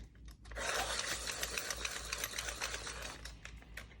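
A Faber-Castell coloured pencil being sharpened, a buzzing grinding burst of about three seconds, close and fairly quiet, with no talk.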